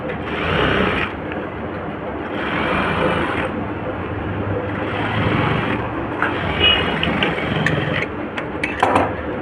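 A sewing machine stitches piping around a neckline in bursts, its whirring motor rising and pausing several times, close up, with a faint voice and small clicks near the end.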